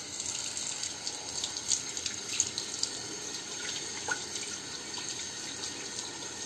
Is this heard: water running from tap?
yes